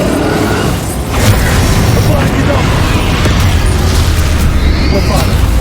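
Bombarda blasting spell in Hogwarts Legacy, a loud booming explosion swelling after the first second into a sustained rumbling roar with crackling debris, dense and close throughout.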